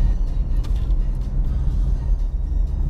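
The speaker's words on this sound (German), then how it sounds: "das Gaspedal macht fürchterliche Geräusche." Steady, loud low rumble of a BMW 220d Active Tourer diesel engine under acceleration in sport mode, heard inside the cabin, continuous throughout with no talking.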